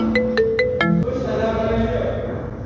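A mobile phone ringtone plays a short melodic series of electronic tones, loud and close, ringing out during an interview on a school talk show as a faint voice murmurs beneath it.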